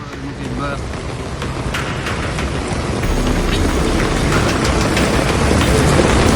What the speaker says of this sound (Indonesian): Angin kencang disertai hujan deras menerjang kawasan wisata kuliner di pantai selatan Bangkalan, Jawa Timur